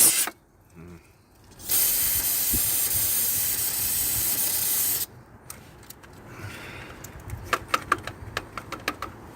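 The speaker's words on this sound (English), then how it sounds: "next I've got some brake parts cleaner, which this isn't exactly what I want to use to clean this out" Aerosol brake parts cleaner spraying inside an 1986 Pontiac Fiero during neutral safety switch work: a loud, continuous hiss lasting about three seconds, followed by quieter clicks and rattling handling noises.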